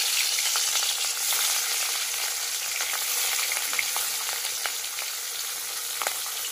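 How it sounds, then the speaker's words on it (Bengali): Rohu fish rubbed with salt and turmeric fries in hot oil, giving a dense, even sizzle with occasional pops and crackles throughout and no talking. "এবার মাছটা নুন হলুদ মাখিয়ে এবার ভেজে নেব"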